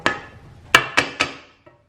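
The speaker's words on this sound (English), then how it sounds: "I'm just gonna scrape this paddle clean here." A stand mixer paddle is knocked against a mixing bowl while being scraped clean after mixing blueberry muffin batter: four sharp, ringing knocks, one then a quick cluster of three, with a faint final tap, and no talk.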